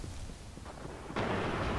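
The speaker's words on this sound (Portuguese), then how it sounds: "Tiro de bazuca comendo solto." A heavy bazooka blast in Destiny on PS4 erupts partway through, a loud broadband boom that follows quieter rumbling background action.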